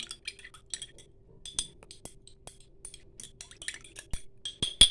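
A spoon clinks irregularly against the sides of a cup while stirring a mixture for homemade cream, butter or yogurt, light metallic taps close by.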